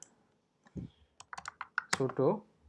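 Keys clack on a computer keyboard as a short command is typed at a Linux terminal, a quick, close, uneven run of clicks under and around a softly speaking voice.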